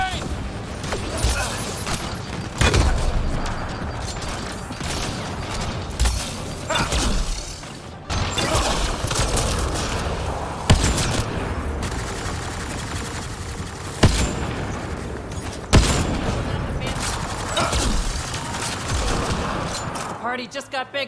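Video game combat in Mass Effect: Andromeda: sustained rattling gunfire with several sharp explosive thumps, including a grenade blast, dense and loud throughout with brief voices mixed in.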